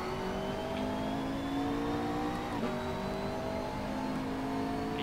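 A race car in the Assetto Corsa racing game rolls along slowly, its engine holding a steady, moderate drone with gentle pitch shifts and a brief dip midway, no talking over it.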